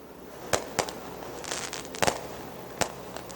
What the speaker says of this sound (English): as the fireworks start to go off here on the front chute.